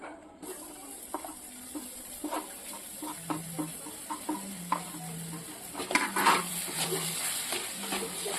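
Grated coconut being stirred into melted jaggery in a pan, a steady run of soft scraping and wet shuffling strokes over a faint low hiss, close and moderately quiet, with no voices.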